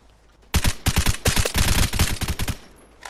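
Machine gun fire in a shooter video game: a loud, rapid burst of automatic shots lasting about two seconds, sharp and close, starting abruptly after a quiet moment.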